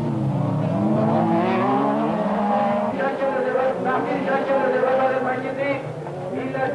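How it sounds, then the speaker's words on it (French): Loud rallycross car engines, including a Ford Sierra Cosworth, roar continuously at a 1991 Savenay race, revving and howling with a few tire squeals, dense and close throughout. "des voitures qui affichaient une puissance incroyable et qui rappelaient le défunt groupe B en rallye. Écoutez-les rugir."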